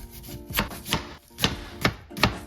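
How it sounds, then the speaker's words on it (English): Five firm knife strokes chopping onions on a cutting board, loud and close, spaced at uneven intervals of about half a second, with no talking. "I do not like chopping onions"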